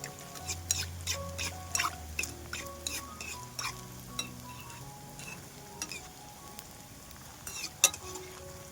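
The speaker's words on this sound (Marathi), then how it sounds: "बघा मस्त तळल्या चाललेल्या आहेत" Potato balls fry in hot oil over a lowered gas flame while a slotted spoon splashes oil onto them. Soft continuous sizzling runs throughout, broken by small clinks and scrapes of the spoon, close and fairly quiet.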